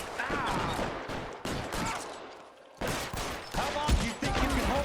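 Pistol and BAR rifle fire in the video game L.A. Noire, a continuous fusillade of shots and bursts running nearly throughout, with a brief lull in the middle, mixed with other game sounds.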